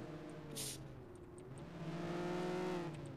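A car approaches in a Mafia video game, its engine rising in a smooth, mid-distance hum and growing louder as it nears, with faint high clicks over it.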